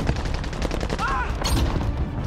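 Gunfire in the shooter game Call of Duty: Modern Warfare, a steady dense crackle of shots running throughout, with brief chirping effects in the middle and a player's voice talking over it.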